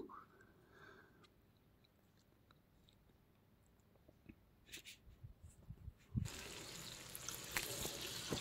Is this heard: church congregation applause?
no